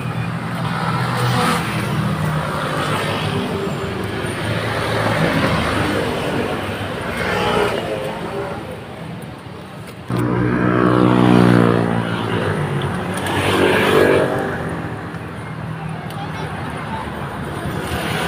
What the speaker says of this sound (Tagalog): Lapit lang po kami sa highway. Ayan. Daming sasakyan.